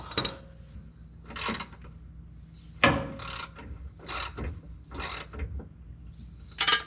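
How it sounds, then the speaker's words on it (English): Ratchet wrench clicking in several separate bursts while working on a 1999 GMC Sierra pickup truck during an oil pressure O-ring repair, close and fairly loud with short pauses between strokes. "Ratchet stuck."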